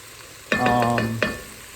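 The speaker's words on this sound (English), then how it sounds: "I'd honestly even like mine to be sizzling a little bit more than this" Peppers and onions sizzle in a hot pan as a utensil stirs and scrapes, with a short squeaky rasp and then a second one.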